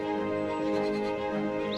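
Goats on a small farm holding bleat in a brief, close, wavering cry lasting under two seconds, with no talking over it.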